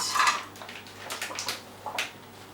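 Metal spoons scrape and clink as meringue mixture is wiped off them, a few short, light scraping strokes close by.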